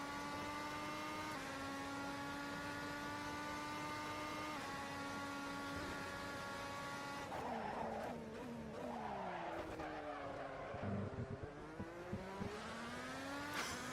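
Engine of a Red Bull X2010 race car in Assetto Corsa at Spielberg, steady high revs and then squealing, wavering tire wheelspin as the rear tires spin up in first gear, loud and with no talk.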